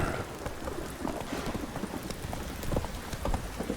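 Horse hooves clopping steadily in The Witcher 3: Wild Hunt, a continuous rhythmic clatter of game sound effects over a dense ambient bed, with no speech.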